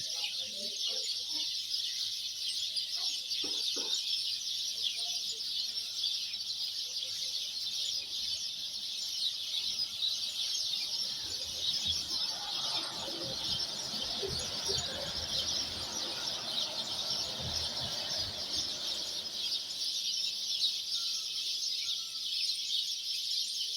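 Sparrows chirping in a tree at dawn in Israel, a dense, steady, faint chorus of high twittering from many birds at a distance, with a soft low rumble swelling in the middle.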